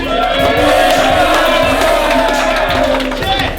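A rap battle crowd roars and cheers for MC ILYAK, a dense, steady wall of shouting voices sustained loudly throughout.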